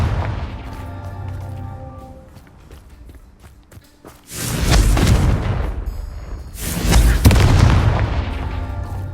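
The Confringo fire spell exploding in the Hogwarts Legacy video game, two heavy booming blasts with rumbling bursts over a busy game backdrop of movement and effects.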